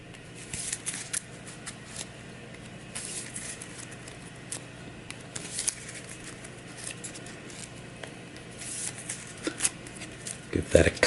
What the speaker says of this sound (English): So I'll go ahead, shuffle that up.